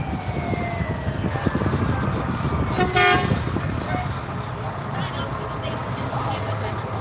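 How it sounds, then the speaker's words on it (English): A steady roar of heavy road traffic as a big semi truck rolls past during a July 4th parade in Columbus, with a brief horn toot in the middle. "Big semi passing by."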